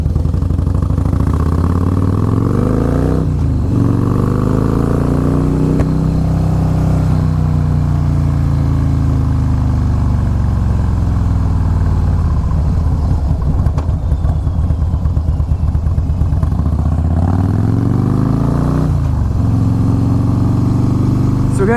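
A Harley Fat Boy S motorcycle rides along with a loud, close engine drone that swells and falls through gear changes and revs, steady throughout with no talk.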